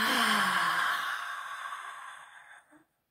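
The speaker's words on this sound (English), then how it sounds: "Big wide mouth open, big yawn out." One long, loud open-mouthed exhale, breathy and drawn out, fading gradually to silence with a small catch at the end.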